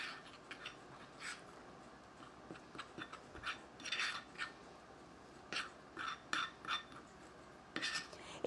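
Utensil scraping and clinking against a dish while sauce is mixed, a series of short, light taps and scrapes at close range, fairly quiet, with no talking.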